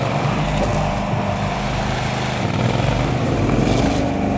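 An SHG Spechtenhauser Chiemsee dirty-water and sludge pump runs with a loud, continuous rumbling drone that holds steady throughout, close up and alone.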